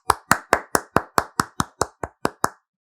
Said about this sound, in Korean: 함께 박수 한번 치겠습니다.